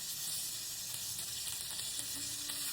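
Pork steak fries in hot oil in a pan, giving a steady, dense sizzle that stays loud and close throughout, with faint stirring ticks and no talking.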